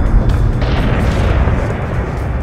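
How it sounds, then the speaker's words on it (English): A loud, deep rumbling explosion in the Battlestar Galactica Deadlock space combat game, a dense boom with a burst of crackle rolling on steadily for a couple of seconds, close and without talk. "Yo, look at that explosion right there."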